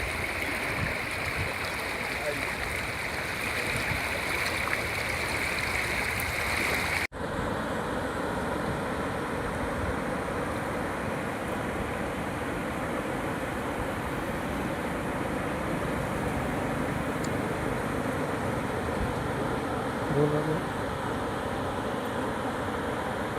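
Floodwater rushes across farm fields and through broken embankments in Mandvi village, Gariadhar taluka, Bhavnagar district, after 6–7 inches of rain. A steady, close, broadband roar runs throughout, with a sharp break in the sound about a third of the way in.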